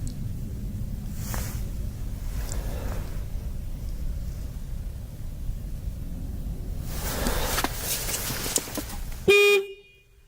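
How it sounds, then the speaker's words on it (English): A van horn honks outdoors at a campsite, several toots rising over a steady windy, noisy background before cutting off abruptly at the end. "That was definitely the horn."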